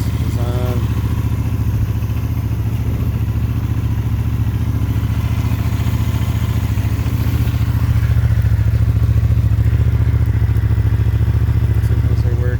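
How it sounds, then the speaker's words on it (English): A 1983 Honda GL650 motorcycle engine running steadily at idle, close and loud, with a smooth continuous low drone and light mechanical clatter throughout. "That's a smooth running bike"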